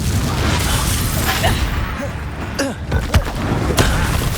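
Confringo fire explosion spell in Hogwarts Legacy, a series of booming blasts and crackling bursts in a chaotic combat scene, close and loud, with short rising whooshes between the hits.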